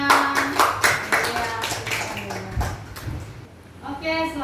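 A classroom of students claps briefly after a group presentation, the clapping mixed with voices and fading into chatter.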